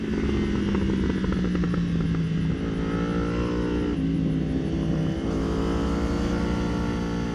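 Yamaha AMA superbike racing motorcycle ridden on a track, its engine screaming loudly and continuously as revs rise and fall through gear shifts, recorded close from the bike itself.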